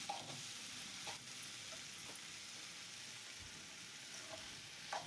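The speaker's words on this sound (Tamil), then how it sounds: "உப்பு போட்டு நல்லா வதக்கணும் பச்சை வாசனை போகிற வரலுக்கு வதக்கணும்" A steady sizzle of bitter gourd curry ingredients sautéing with salt in a pan, with occasional scraping stirs, continuous and close with no talking.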